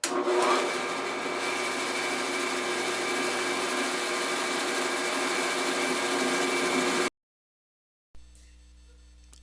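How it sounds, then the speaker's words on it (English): A bandsaw cuts a 9-inch tall maple block, giving a loud, steady whining roar of blade and wood that runs for about seven seconds. It then stops abruptly, followed by silence and a faint low hum. "the saw is set up ready to go, and I'm going to cut it"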